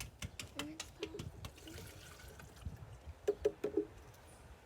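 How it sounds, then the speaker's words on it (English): Whole milk is poured into a blender, giving a soft liquid splash and gurgle that comes in irregular bursts, strongest near the end, against a quiet kitchen background. "So I'm going to pour that into the blender."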